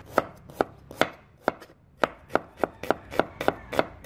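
A knife thinly slices shallots on a cutting board, about a dozen sharp, close taps in a fairly even rhythm with brief quiet gaps between them.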